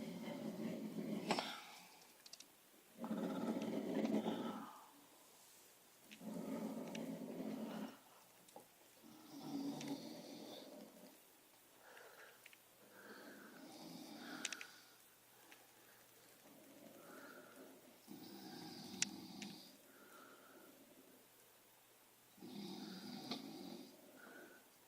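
Loud snoring from a sleeping person, a regular series of about eight rough, rasping breaths in steady rhythm, fairly close in a quiet room.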